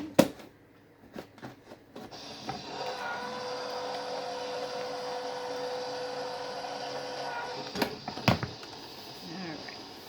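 An Accuquilt fabric die cutter runs with a steady motorized hum and whir for several seconds, framed by handling knocks and clicks at the start and end, with a brief voice underneath.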